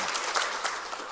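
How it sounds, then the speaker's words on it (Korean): Congregation applause during a Sunday morning church service welcoming a new member, a soft, steady patter of many hands heard briefly at a distance. "박수로"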